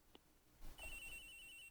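A cell phone rings in Ace Attorney Investigations: a steady electronic ringtone tone with a high overtone sustains for about a second after a brief click and soft thump, fairly quiet and with no talk.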